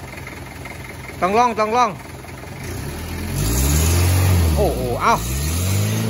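A used car's engine is revved in short bursts, a couple of quick rising-and-falling blips followed by a deeper sustained rev and another sharp blip, close up with a man's brief exclamations between.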